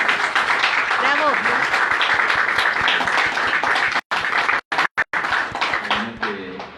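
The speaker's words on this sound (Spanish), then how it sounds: "pido un aplauso para nuestro" Audience applause at a financial inclusion seminar session in Aragón, dense steady clapping throughout, with a voice calling out over it and brief gaps near the end as it tapers off.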